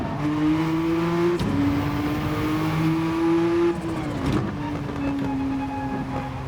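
A Gr.1 race car engine in Gran Turismo 7 accelerates loudly with a strong, rising whine, breaking twice for quick gear shifts before pulling on through each gear.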